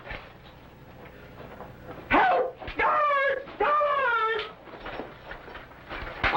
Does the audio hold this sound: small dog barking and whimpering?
yes